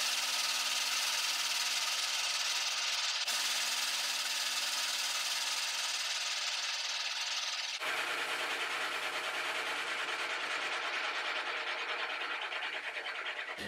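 A bone nut blank for a Larrivee OM-03 guitar is cut, giving a steady, close, hissing rasp in two long continuous strokes with a brief pause between them.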